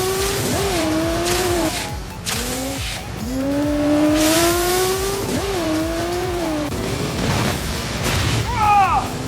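Video game car engine revving and accelerating during a chase, its pitch rising and falling with gear changes and a late whining climb, with people talking over it.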